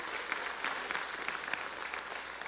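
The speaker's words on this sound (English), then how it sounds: "Let's give the Lord a great big praise clap." A church congregation claps in praise, an even run of many hands clapping together, moderately faint and without talk.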